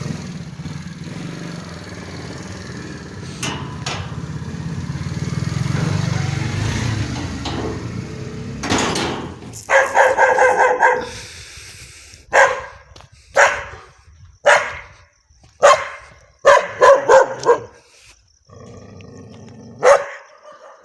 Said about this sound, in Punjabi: ਰਾਤੀ 9 ਵਜੇ ਖੜੇ ਗਲੀਆਂ 'ਚ ਲੰਘਦਾ ਨਾ ਤਾਂ ਕੁੱਤੇ ਪੈਣ ਲੱਗੇ ਹੋਏ ਆ